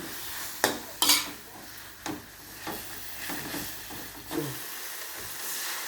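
Morning glory being stir-fried with fermented soybean paste and a little sugar, a steady sizzle under sharp clanks of a spatula scraping the pan, with several distinct stirring strokes close by.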